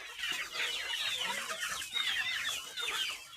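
Several free-range chickens cluck and chirp continuously in soft, overlapping calls while scratching the ground, with no voices, a busy flock close by.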